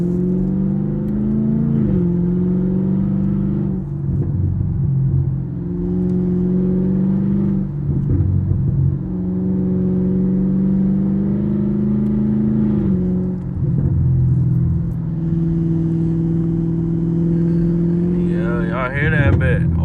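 Chevrolet Camaro SS engine held under steady load while driving in the rain, a close, continuous growl whose pitch drops in clear steps at several gear shifts.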